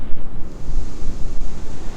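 Ocean waves washing on the shore, a loud, steady rushing surf with rhythmic swells, heavily mixed with wind buffeting the microphone, and no voices.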